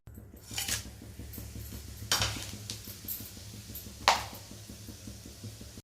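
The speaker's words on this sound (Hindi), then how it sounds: "तो चलिए अभी मैं फ़ौरन को इसमें डालती हूँ।" Whole spices dropped into hot oil in a pan for a Bihari-style mutton curry, with a steady sizzle and a few sharp metallic clinks and knocks of utensils against the pan.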